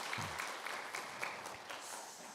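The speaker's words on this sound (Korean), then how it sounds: "다시 한번 박수 한번 해주시기 바랍니다." Congregation applauding in a church during a Sunday worship service, a steady, moderately faint wash of clapping throughout with a brief low thump near the start and no talk.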